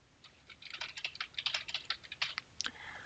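Fingers typing on a computer keyboard, a quick, steady patter of light key clicks close by, uneven in rhythm and fairly soft, with no voice over it.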